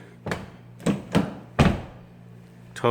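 Someone repeatedly tries to close the door of a Ford GT350 with a dead battery, giving four dull, close thunks a few beats apart as the door fails to latch.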